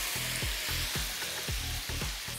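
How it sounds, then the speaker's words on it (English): Steak sizzles in melted garlic butter in a pan, a bright continuous hiss with rhythmic low thumps from stirring or spatula movement, close and steady, with no talk. "Sizzle, sizzle, sizzle."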